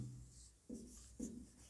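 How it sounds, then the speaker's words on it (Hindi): Marker or chalk scratching on a classroom board during a maths lesson, two short separate strokes close by over faint room hum, with no talking. "चलिए लिखते हैं"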